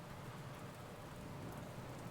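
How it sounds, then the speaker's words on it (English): Steady rain falls on cobbled city streets in London, a dense even hiss with low rumbling underneath, continuous and fairly close, with no distinct thunder crack standing out. "you make your way through the rainy, cobbled streets of London with the thunder cracking above your head"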